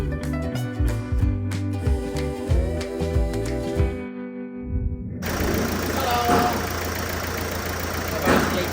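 A Mercedes Vito diesel van with fresh injector seals cranks and stumbles unevenly, pauses, then settles into a steady close-up running clatter.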